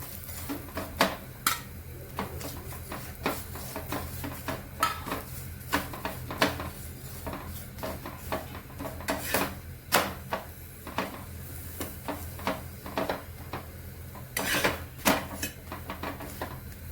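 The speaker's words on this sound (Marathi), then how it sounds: "त्याला बाकी सुद्धा असेच बनवून घेते भाजून घेऊया" A stuffed pea-and-potato paratha roasting on a pan, with soft sizzle under repeated scraping and tapping of a spatula against the pan, a steady run of close clicks and scrapes with a low hum beneath.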